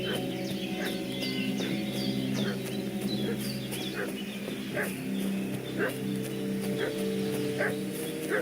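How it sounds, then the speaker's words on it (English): A dog in the medieval village game Kingdom Come Deliverance 2 barks repeatedly in short, evenly spaced yelps amid background birdsong and fowl calls. "What's that dog making such a fuss about?"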